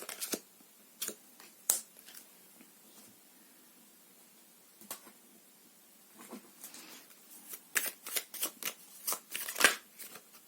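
Tarot cards shuffled and handled at close range on a table, with short bursts of riffling and flicks scattered across the stretch, quiet gaps between them and a denser flurry of snaps near the end.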